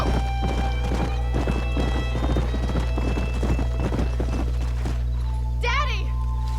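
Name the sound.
horse hooves clip-clopping, video game Red Dead Redemption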